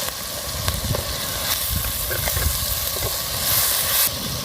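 Asafoetida hitting hot oil in a pan for a spiced Gujarati cluster bean and dhokli curry, a steady close sizzle with scattered small pops and a brief stir clatter, no voices.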